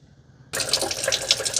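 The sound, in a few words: water poured into robot vacuum mop tank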